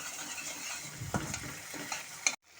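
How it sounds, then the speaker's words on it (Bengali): Ground spices and ginger sautéed in a pan with a splash of water for a bottle-gourd-leaf curry, giving a steady close sizzle with a few spatula scrapes and a louder stir near the end before it cuts off. "এরকমভাবে কষতে থাকবো যতক্ষণে আদার কাঁচা গন্ধটা চলে যাচ্ছে।"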